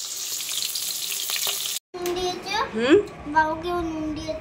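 Salt-and-turmeric-rubbed fish fries in a pan with a steady sizzle for nearly two seconds, then a brief cut, after which voices talk over the cooking.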